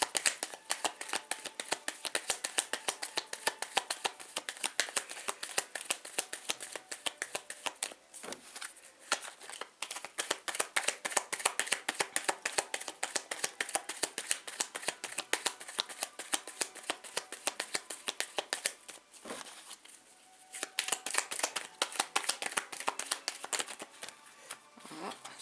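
A deck of tarot cards is shuffled continuously, with dense papery riffles and slaps that run close and steady, pausing briefly now and then.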